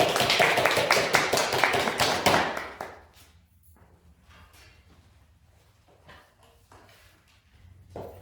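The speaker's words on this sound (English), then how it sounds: "give a warm round of applause for Willa Brigham" An audience at a Black History Month arts celebration applauds a performer, with dense clapping for about two and a half seconds that breaks off into quiet room noise and a few scattered thumps.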